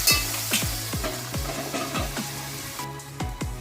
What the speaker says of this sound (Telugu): మనం కోసి పెట్టుకున్న టమాటీ ముక్కలు ఉన్నాయి కదా, ఇవి వేసుకోవాలి.